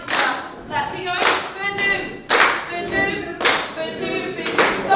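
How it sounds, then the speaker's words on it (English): Sharp claps from a group at a dance rehearsal, struck in a regular rhythm about once a second, with a singing or calling voice between the claps. "Right, clap. Right, right, clap."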